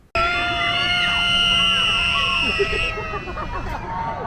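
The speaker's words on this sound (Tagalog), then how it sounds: "sumisigaw-sigaw din siya dito" A child screams and shrieks amid loud amusement-ride noise and crowd babble, with bright sustained high-pitched tones running throughout.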